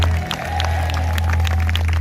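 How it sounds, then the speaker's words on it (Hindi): A church congregation claps hands together in a dense, continuous patter of applause, close and fairly loud, with a low hum and crowd murmur underneath. "Somebody clap your hands and say amen."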